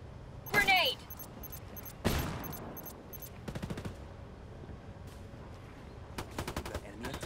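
Gunfire in the video game Ghost Recon Wildlands: a sharp nearby shot, then scattered single shots and rapid automatic bursts, with voices talking between them.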